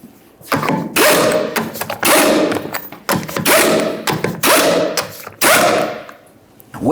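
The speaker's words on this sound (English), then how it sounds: "Start on the lug nuts, bottom them out." Lug nuts spun onto a 2006-2012 Ford Fusion wheel with a power tool, heard as repeated loud bursts of whirring and thudding in several separate runs, separated by short pauses.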